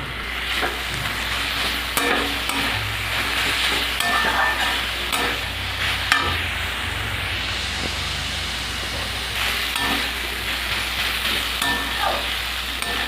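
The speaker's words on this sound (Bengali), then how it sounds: "এবার ঢাকাটা খুলে শাকটা নাড়িয়ে নেব।" Cooked red amaranth greens, sweetened with a little sugar, are stirred in an uncovered pan: a steady, close hiss of frying with repeated spatula scrapes and knocks against the metal.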